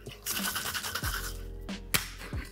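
An egg-white whisky sour dry-shaken in a cocktail shaker without ice gives a steady, muffled rattle and slosh for about two seconds, with a few sharper knocks partway through.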